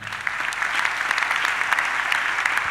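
Church congregation applauding steadily and fairly loud throughout, a dense continuous wash of clapping from a crowd at a worship service.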